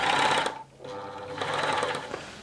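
Steady mechanical whirr of a Tony CM 500 sewing machine running a stitch, briefly pausing then resuming at an even pace, close and clear with no talking.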